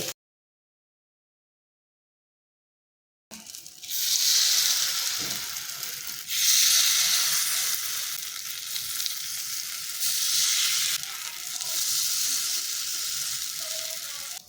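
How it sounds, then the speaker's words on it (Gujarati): After about three seconds of silence, semolina appam batter starts cooking in an appam pan over a medium flame with a loud, steady hissing sizzle that swells and eases in waves. "તો હવે આપણે ગેસની મીડિયમ ફ્લેમ પર અપ્પમને થવા દઈશું।"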